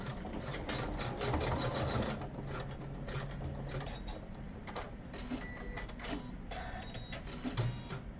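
An embroidery machine stitches the tab of an in-the-hoop box bag, a quiet rapid needle chatter with brief pauses and bursts, close and steady.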